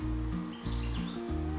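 Small birds chirp at a feeder, a few brief high tweets heard faintly over a steady low hum of background music.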